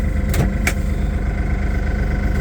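A Toyota 52-8FDF30 diesel forklift engine starts and settles into a steady, close, loud idle with a couple of brief clicks near the start.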